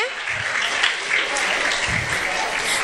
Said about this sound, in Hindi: जोरदार तालियां होनी चाहिए बच्चे के